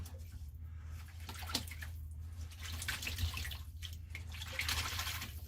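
Clumps of snowdrop bulbs being dunked and moved about in cold water, with sloshing, trickling and dripping sounds at close range and no talking.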